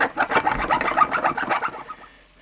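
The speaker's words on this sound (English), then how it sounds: "it just kind of cut some grooves into the plastic" A blade is worked back and forth across a cracked plastic blend door actuator gear, cutting grooves in it with a rapid rasping scrape of quick, regular strokes up close that fade out near the end.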